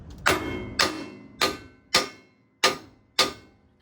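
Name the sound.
hammer striking truck axle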